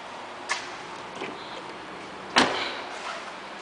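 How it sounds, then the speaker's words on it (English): Power running boards on a 2008 GMC Yukon Denali retract with an open door: a soft click, a faint mechanical whir, then a sharper clunk as they stow, set against quiet background hiss. "let me go ahead and open the door just a little bit so you can see how the power boards work"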